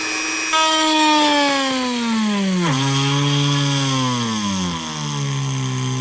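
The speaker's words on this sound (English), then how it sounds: "and then drill the 4 little holes." A power drill bores small holes in a speaker grill cover for a 2018 Honda Goldwing. Its close, steady motor whine drops sharply in pitch partway through, then sags again near the end.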